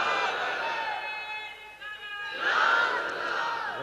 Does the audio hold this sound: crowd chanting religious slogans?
yes